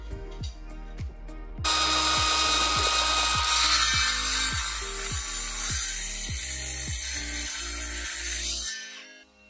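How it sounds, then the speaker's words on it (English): Compound mitre saw cutting a length of wood: the motor spins up with a loud whine, grinds steadily through the cut for several seconds, then winds down and stops. "I've clamped it down and I'm just going to make the cut."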